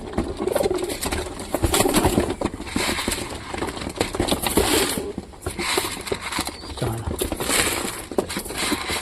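Pigeons coo softly nearby while feeding, amid shuffling and wing flutters, with a low engine hum in the background.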